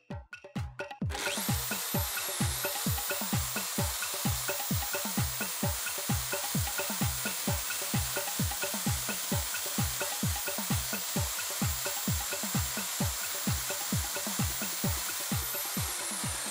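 Drilling a hole with a 4.2 mm drill bit for an M5 tap, a steady whining drill with regular rhythmic thumping pulses throughout, fairly quiet and with no talk.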